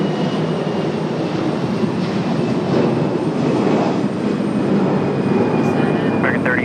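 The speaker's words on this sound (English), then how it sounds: "Our Phoenix Sky Harbor flight, American Airlines 3033, departing right now." American Airlines flight 3033 to Phoenix departs Raleigh-Durham, a loud, steady engine roar filling the whole stretch without pause, with brief faint voice or radio sounds near the end.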